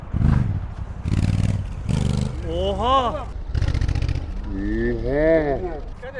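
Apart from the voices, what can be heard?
Honda NT1100 motorcycle engine revving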